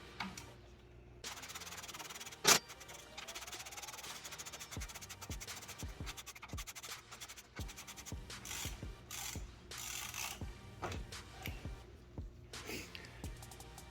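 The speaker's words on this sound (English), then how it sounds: "there's a 15mm nut on the back side that you need to hold in place while you loosen this bolt here" A wrench works a bolt loose on an Ohlins TTX rear shock fitted to a Ducati Panigale V4, giving close metallic clicks and ratcheting with rubbing and scraping mechanical sounds and one sharp knock early on.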